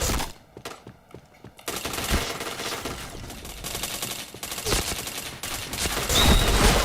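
Rapid bursts of automatic gunfire and shots from the online shooter game Point Blank, loud and dense, firing continuously over several seconds with brief gaps.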